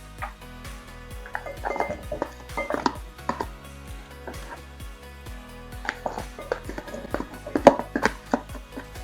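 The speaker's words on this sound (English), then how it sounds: "So in step 6, we are going to mix all the fruit together." Fruit pieces are stirred and tossed together in a bowl for a fruit salad, giving soft irregular knocks and clinks of utensils against the dish, close and fairly quiet.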